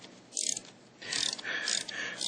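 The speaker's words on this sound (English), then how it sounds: "Okay, I'm tightening the screw" Screw being tightened on a Ford Ranger cam sync sensor, with bursts of ratcheting, clicking mechanical noise in two close-up spells separated by a quieter gap.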